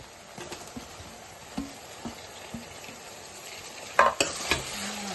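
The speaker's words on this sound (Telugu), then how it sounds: "ఇలా మగ్గిన ఉల్లిపాయల్లో మనం కట్ చేసి పెట్టుకున్న టమాటా ముక్కలు వేసుకుందాం." Chopped tomato pieces hit sautéed onions in a pan for a Telugu-style prawn and chana dal curry, giving a steady sizzle with soft stirring clatters and a louder splash of sizzling near the end.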